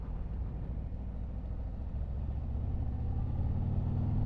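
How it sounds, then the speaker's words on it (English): A 2024 Harley-Davidson Street Glide motorcycle rumbles under way, a steady low engine drone that swells slightly toward the end, with wind noise and no voices. "Ah, look at that sound. That's a Harley."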